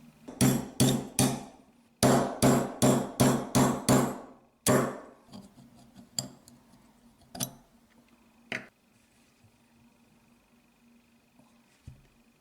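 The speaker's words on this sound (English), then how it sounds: "you must knock this 2-roll pin out here. And to do that, I use a 1/8 roll pin punch." A 1/8 roll pin punch is struck by a hammer to drive a roll pin from the grip frame of a Smith & Wesson 22 Victory pistol, giving rapid ringing metallic taps in quick bursts, then a few isolated strikes with pauses, close up and without talk.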